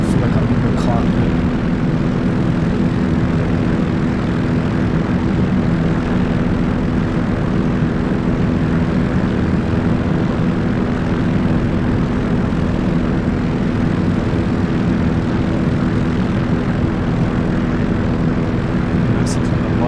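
Aircraft engine droning steadily from inside the cockpit in the Combat Pilot 1 flight game, a loud continuous propeller hum that stays constant throughout with no breaks.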